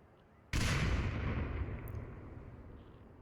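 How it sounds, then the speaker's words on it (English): A grenade explosion in the Onward VR shooter game during a tournament match: a sudden loud blast at half a second, then a long rumbling decay that fades over the following seconds. "Grenades coming to check the objective"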